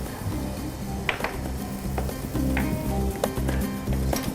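Chicken tangri kebab cooking over a high flame makes a steady sizzle over a low, pulsing burner rumble, with scattered light scrapes and clinks of a utensil, close and unbroken by speech.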